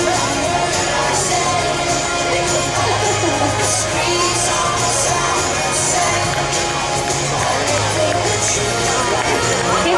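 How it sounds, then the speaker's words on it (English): Spectators at the finish of the 2015 Perth Marathon cheer incoming runners, a continuous outdoor crowd roar with shouts and whoops layered over an announcer talking throughout. "Keep the cheering going for these runners coming in."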